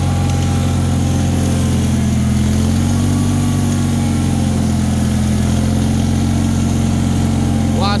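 A Bolens HT-23 garden tractor engine idles steadily and close by, a low continuous drone that holds even for about eight seconds with no break or change in pitch.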